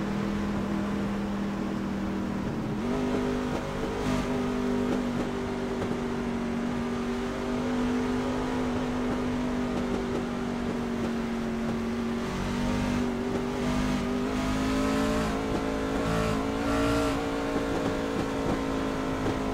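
Race cars at a short-track event run under green flag racing, their engines droning steadily with rising and falling pitch as they circle, a continuous loud roar throughout.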